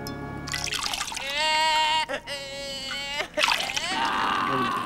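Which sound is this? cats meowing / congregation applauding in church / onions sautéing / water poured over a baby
water poured over a baby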